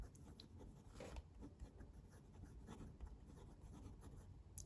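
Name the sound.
fountain pen nib writing on Clairefontaine paper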